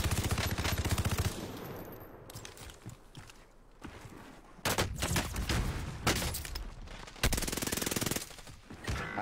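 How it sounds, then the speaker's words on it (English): Gunshots in the video game Call of Duty Warzone: loud, close bursts of rapid automatic fire in several dense volleys separated by brief pauses, with no talking. "I hear shots."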